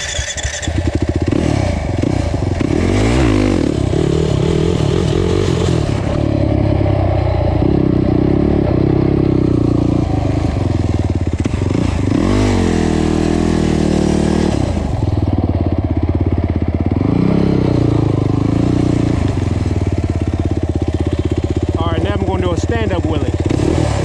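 A quad ATV engine roars and revs continuously through a sit-down wheelie, loud and close, with rising and falling pitch, rattling clatter and a voice speaking over it at times.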